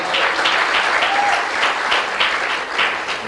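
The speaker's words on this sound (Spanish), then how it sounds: "Darle un aplauso a los nuevos, que por aquí hay personas que se han bautizado" A church congregation gives loud, sustained applause for newly baptized members, many hands clapping close and full, swelling in gentle waves, with a brief high whoop near the middle.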